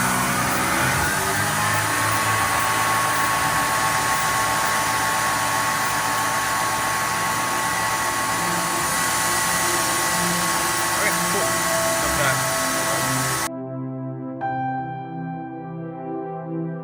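A CNC mill decks the top of a machining pallet with a 1/4 inch end mill, giving a loud steady whine and rushing noise that cuts off abruptly near the end, leaving faint tones.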